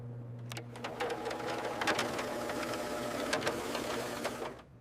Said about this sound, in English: Finally, print a test page.